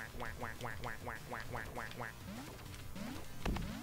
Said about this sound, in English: I get sad when I quack.